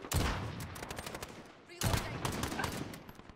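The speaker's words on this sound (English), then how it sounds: "See, I shot him pretty close to the head." A Kar98K bolt-action rifle fires in an online shooter game set around a tank, a house and a courtyard. Two loud, sharp reports stand well apart, each trailing off into a noisy battlefield echo.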